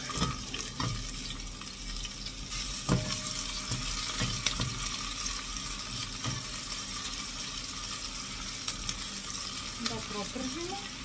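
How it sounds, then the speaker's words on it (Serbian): Chopped onion hitting hot oil in a pan, sizzling steadily and close by, with scattered clinks and stirring knocks over a constant hiss. "Ulje nam se zagrijalo. Ulje nam se sad stavljamo luk."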